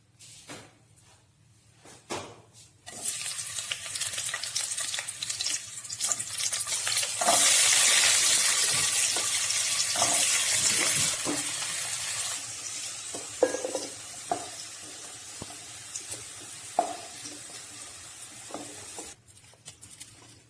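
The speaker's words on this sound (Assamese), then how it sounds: "এখন কেৰাহীতে মই আৰু অলপ তেল দি লৈছো আৰু ইয়াতে মই এখন চব্জি বনাম।" Small potatoes, beans, carrots, onion and bay leaves frying in oil in a kadai for an Assamese vegetarian thali, with a loud hiss swelling midway, repeated spoon scrapes and clanks, and quieter stretches before and after.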